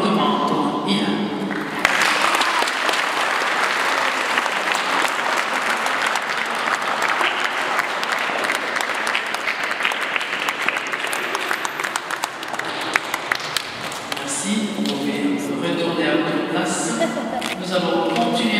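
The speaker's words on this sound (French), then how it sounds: "veillons applaudir fortement pour Ilan." Loud applause from guests at a baptism and birthday celebration for baby Ilan, a dense, sustained wash of clapping running nearly the whole stretch, then thinning toward the end.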